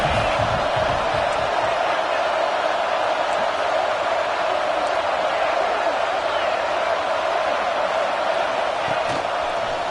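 A steady, dense roar from a football stadium crowd holds at an even level throughout, with a commentator talking over it.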